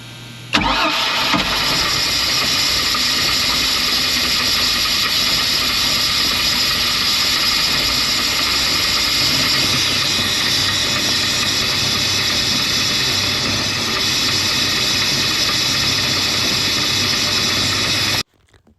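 A Mercruiser 4.3 boat engine is fired up and left running on a water hookup, a steady loud mechanical drone that starts abruptly after a brief click and holds an even level throughout.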